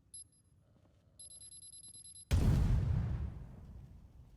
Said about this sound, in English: Now you will hear a beep. That means that the bomb is actually triggered